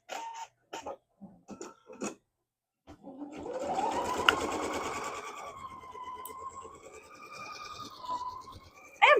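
Sewing machine stitching through linen during a quilting project, a steady continuous mechanical whir that runs several seconds after a few short bursts and pauses, fairly close and moderately loud.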